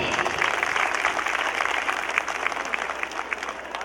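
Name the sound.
audience applause for guest of honor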